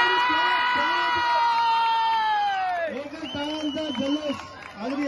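A crowd at a youth kabaddi match roars and cheers loudly under a sustained whistle-like tone, then keeps up rhythmic chanting and shouts as a voice talks over it.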